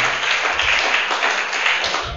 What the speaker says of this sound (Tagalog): Palakpak sa Panginoon ang ibig sabihin.